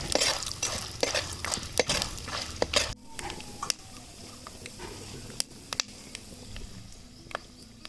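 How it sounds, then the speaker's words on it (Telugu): A ladle stirring split lentils and seeds in a pan, busy scraping and rattling up close at first, then thinning out to sparse clicks and taps against a quieter background. "ఒకసారి అయితే గంటతో బాగా కలుపుకుందామండి"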